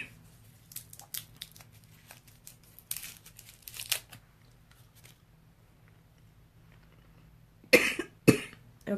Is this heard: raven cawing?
no